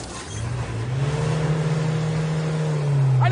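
A car engine revs hard and steadily, the loud mid-pitched drone holding and swelling slightly over a few seconds, close and alone without voices.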